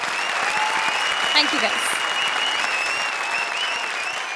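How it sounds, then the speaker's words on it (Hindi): Studio audience applause on a comedy show finale, strong continuous clapping with a brief voice speaking over it. "एक बार फिर लेडीज एंड जेंटलमैन जोरदार तालियां कपिल और मुक्ति के लिए"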